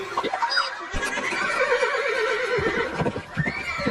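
A horse whinnies loudly and shakily, its wavering neigh rising and falling over outdoor background noise, with no talking.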